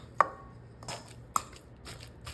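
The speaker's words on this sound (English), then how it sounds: "So next we want to mash these up." A wooden spoon mashes boiled sweet potatoes in a bowl, giving two dull knocks and some soft, squishy movement between them. The sound is quiet and close, with no talking.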